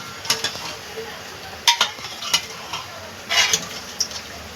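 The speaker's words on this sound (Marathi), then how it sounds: "आता आपण त्यामध्ये आपली वजळी टाकून घेऊया जी आपण शिजवली होती" Wet stirring and scraping as cooked tripe is added to masala in a pan, with a few sharp metallic clinks of a spoon against the rim over a soft background sizzle.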